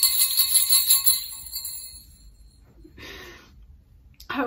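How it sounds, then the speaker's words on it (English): Bells ring brightly and loudly, then fade into quiet, followed by a brief breathy rustle and another short burst of sound at the end. "Standing ovation with jingle bells."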